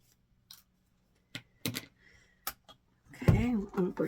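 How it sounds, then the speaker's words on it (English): Scissors snip thread strings off a small snowman quilt in a few sparse, sharp clicks, and a voice starts talking just after the cuts. "cut all of our little kite strings off"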